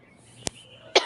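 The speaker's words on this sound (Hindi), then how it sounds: "आज खांसी हो रही है" A woman with a cough gives two short, sharp coughs close to the microphone in a quiet room, the second louder and rougher than the first.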